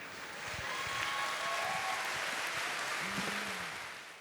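A panel audience at a World of Warcraft event in Paris claps and cheers, a broad, sustained wash of applause that holds steady before tapering slightly at the end.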